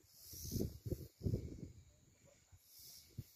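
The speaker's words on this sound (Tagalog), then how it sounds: "ang maririnig mo lang yung tunog ng insekto, whatever that is" A faint, steady high buzz of insects on Mt. Sicapoo drones across the whole moment, with soft low rustles and muffled bumps nearby.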